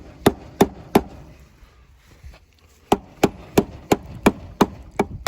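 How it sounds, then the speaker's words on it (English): An adjustable hammer strikes parts of a Geo Tracker: three sharp, evenly spaced blows, a short pause, then a quicker run of about seven loud strikes, close up with no talking. "This time we're going to use an adjustable hammer."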